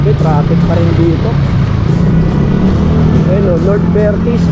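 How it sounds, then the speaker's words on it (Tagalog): Congested road traffic at Trinoma in Manila makes a steady low rumble of engines close by, with voices over it throughout. "Grabe, traffic pa rin dito."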